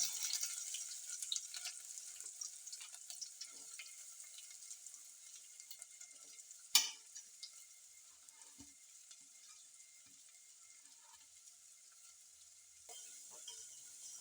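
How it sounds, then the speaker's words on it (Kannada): Green chillies and onions frying in a pan while making dosa from ration rice, a soft steady sizzle with a sharp clatter partway through, quiet and close. "ಮೆಣಸಿನ್ಕಾಯಿ ಹಾಕ್ತೀನಿ, ಈರುಳ್ಳಿ ಹಾಕ್ತೀನಿ ನೋಡ್ರಿ."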